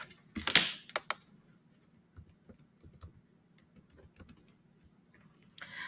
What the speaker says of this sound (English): I'm going to type that up.